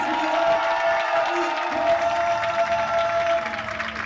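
A boxing arena crowd at the Strandja international tournament finals cheers and applauds for Bulgarian light heavyweight Christian Nikolov, a loud continuous roar of voices and clapping that swells and fades slightly.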